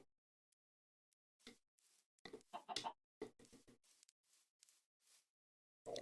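Soft, sparse clucking and scratchy bursts from chickens in the video game Minecraft, in an otherwise near-silent scene, irregular and fairly quiet.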